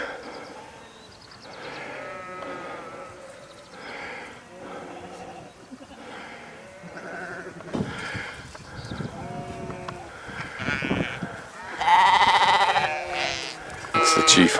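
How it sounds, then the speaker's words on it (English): Herd of sheep on a mountain hillside near Kotor, with a lead sheep wearing a bell, bleating repeatedly at varying distances, some calls loud and near, mixed with a person talking. "There's a herd of sheep."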